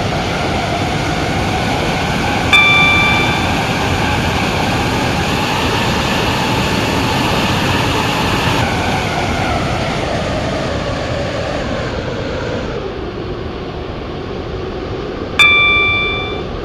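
Class 143 Pacer diesel unit running on the Waterline service to Newry, a steady loud rumble of engine and wheels inside the train throughout, with two short chime tones near the start and end.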